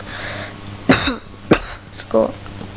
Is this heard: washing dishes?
no